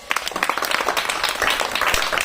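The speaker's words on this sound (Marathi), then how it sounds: "सर्वांनी टाळ्या वाजवायचं आहे" A group of schoolchildren at a district council school clapping together, a dense burst of many uneven hand claps close by that runs throughout.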